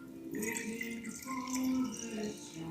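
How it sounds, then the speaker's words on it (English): Warm water poured from a container into flour in a bowl while mixing sourdough bread dough, a steady close trickling and splashing with shifting pitch as the stream runs. "We want to add 360 grams of water,"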